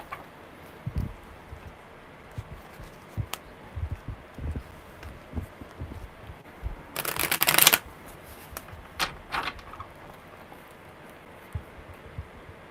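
Cards being shuffled up close, scattered soft taps and flicks, then a loud riffling burst in the middle followed by a few more quick riffles.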